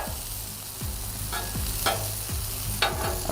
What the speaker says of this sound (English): Saute my onions just a little bit.